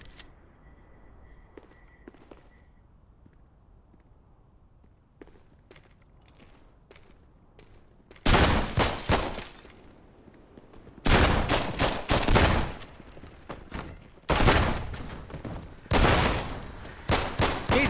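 Gunfire rips through a level of the top-down action game Hotline Miami, starting with quiet clicks and shuffling, then loud close bursts of rapid automatic fire in several separate volleys, with no talking.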